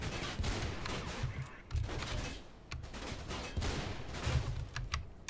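A lever-action rifle fires repeatedly in a video game, with sharp, close shots coming in quick irregular bursts over a busy rumbling background.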